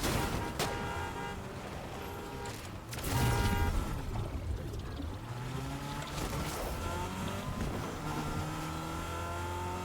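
A car driven in Fortnite, its engine humming and revving with rising and falling pitch sweeps at moderate loudness, with a brief louder burst partway through.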